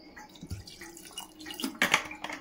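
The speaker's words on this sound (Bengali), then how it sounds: "আর একটু বেশি করে জল দিলাম, কারণ এগুলো তো সেদ্ধ হতে টাইম লাগবে।" Water is poured into a cooking pot of lentils set to boil, heard as close, irregular splashes and drips with a brief louder gush near the end.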